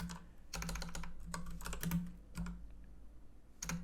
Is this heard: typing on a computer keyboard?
yes